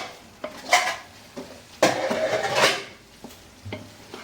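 Onions and tomatoes sautéing for chicken biryani, stirred in a pan with a few scraping, clattering strokes of a spoon over a faint sizzle, sparse and close.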